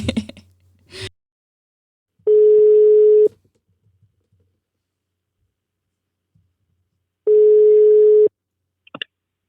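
A telephone call tone sounds twice, each a steady one-second beep separated by a long silence, with brief clicks and handling noise at the start and end of the line.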